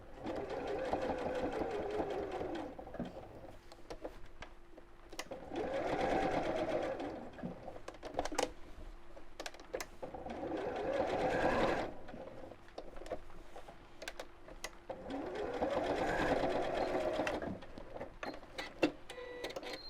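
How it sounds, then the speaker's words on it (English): A sewing machine top stitching close to the edge of a fabric clutch bag, running in steady whirring bursts that speed up and slow down several times, close and fairly quiet. "I'm just going to top stitch very close to the edge."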